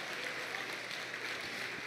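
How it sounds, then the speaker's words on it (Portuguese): Church congregation applauding during a sermon, a steady broadband wash of clapping that holds evenly throughout at moderate level with no voices on top. "Você pode aplaudir Jesus por isso"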